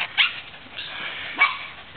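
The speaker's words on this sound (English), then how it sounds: "Okay, this is Powder, our little white husky puppy." A little white Siberian husky puppy gives a couple of short, high yips and whimpers, close by and fairly loud, with soft whining between them and no talking.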